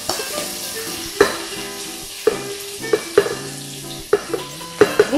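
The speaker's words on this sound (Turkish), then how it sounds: "Etlerin iki tarafı da iyice tam benim istediğim gibi kızardı" Beef pieces for a stroganoff fry in a pan, a steady sizzle running under sharp, regular clinks and scrapes of a utensil stirring and turning the meat.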